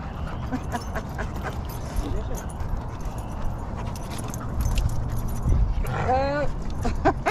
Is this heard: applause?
no